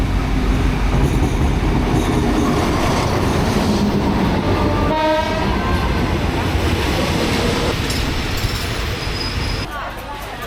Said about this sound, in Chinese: 火车来喽！